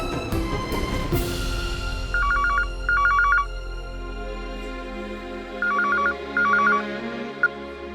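A household telephone rings indoors in a family home, giving repeated warbling double bursts in two pairs against a quiet background.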